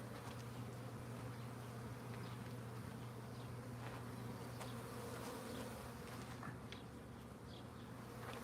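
Dense, steady buzzing of many honeybees flying around Langstroth hives in West Texas, a continuous close drone with a low hum and no speech.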